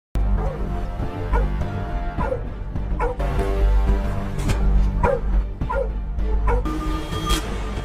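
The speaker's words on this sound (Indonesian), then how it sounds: "anjing itu terus menyalak tepat di pinggir danau" A dog barks repeatedly at the edge of a lake, its loud barks and yelps recurring in an uneven rhythm over steady background music.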